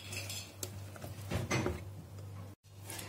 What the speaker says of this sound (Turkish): Ve güzelce tatlı kaşığımızı da karıştıralım